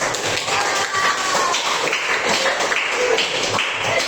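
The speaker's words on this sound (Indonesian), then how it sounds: "Oke, tepuk tangan dulu" A school class claps together during a guidance counselling lesson, producing a steady, dense patter of hands throughout, fairly loud and without any voices.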